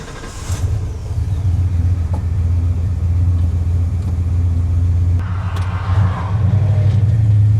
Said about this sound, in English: let me drive down the road, let me see what it does